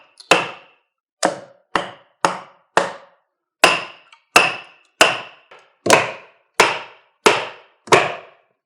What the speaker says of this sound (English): So we could take the sledge and send that in a little deeper.